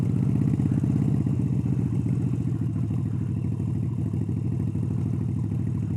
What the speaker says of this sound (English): So what you can do during this part is give it a little bit of friction in the friction zone and give it a little bit of throttle.